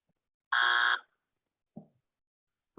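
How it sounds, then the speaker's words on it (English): A single electronic buzzer sounds one short, loud, steady buzz lasting about half a second, followed by quiet with only faint brief noises, in a meeting setting. "My buzzer buzzed."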